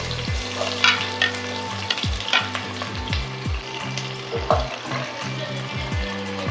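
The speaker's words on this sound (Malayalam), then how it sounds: "ഇനി ഉള്ളി ഇടാം." Onions hitting hot sunflower oil with spices already frying, a steady loud sizzle with repeated stirring scrapes throughout, no one talking.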